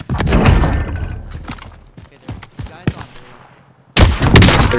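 Gunfire in the video game Call of Duty Warzone: loud close bursts of shots, scattered sharp cracks and thuds in the middle, then another heavy burst at the end, mixed with some talk.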